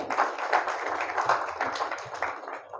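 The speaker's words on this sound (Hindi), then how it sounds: "आप सबसे चाहूंगा कि एक बार इनके लिए जोरदार तालियां हो जाए" Applause from an audience at a celebration function, a steady patter of clapping lasting a few seconds at moderate distance.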